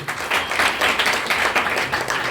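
Meeting audience applauding together, a dense steady patter of many hands clapping close by with a slight pulsing swell, no voices on top.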